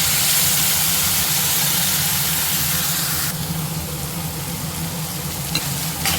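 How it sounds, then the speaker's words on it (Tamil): Ground tomato fries in a pan with ginger and garlic, giving a loud, steady sizzle that runs the whole time with no one talking. "இஞ்சி பூண்டோட பச்சை வாசனை போனதுக்கு பிறகு நம்ம அரைச்ச தக்காளியை இதுக்குள்ள சேர்த்துக்கோம்"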